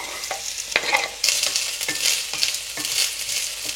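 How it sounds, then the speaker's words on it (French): Chopped onions frying in a splash of oil in a pan over medium heat crackle with a continuous sizzle and repeated utensil scrapes and stirring knocks, close and clear with no one talking. "je vais faire rissoler les oignons"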